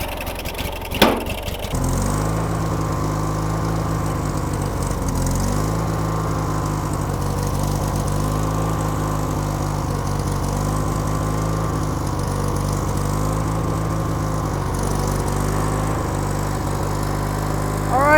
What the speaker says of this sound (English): Well, it's running up.